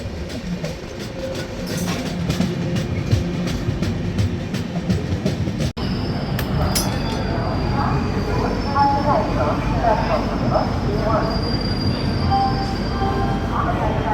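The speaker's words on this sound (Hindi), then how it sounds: "भोपाल जंक्शन पे मैं आपको अराइवल दिखाता हूँ।" The Rajdhani Express rolls into Bhopal Junction with steady rumbling and rhythmic wheel clicks, then a sharp clunk and squealing wheels as it slows. Station noise and voices continue throughout.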